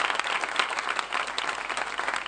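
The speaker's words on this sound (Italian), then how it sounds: "adesso c'è l'applauso di tutti, siamo commossi." Sustained applause from the crowd of walking pilgrims on the Macerata–Loreto pilgrimage, a dense even patter of many hands clapping throughout, moderately loud and steady with no voices on top.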